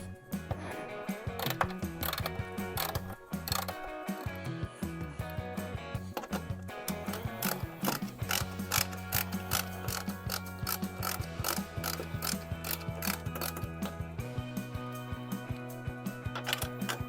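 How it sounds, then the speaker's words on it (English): A ratchet wrench clicks out 8mm top bolts holding the headlight of a BMW E46, with repeated bursts of rapid ratcheting and turning, close and fairly quiet, with no talking. "To remove these top bolts you'll need an 8mm."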